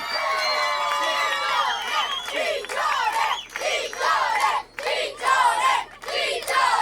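An outdoor summer concert crowd cheers and shouts loudly after a song, with bursts of whooping and yelling that rise and fall in waves over several seconds.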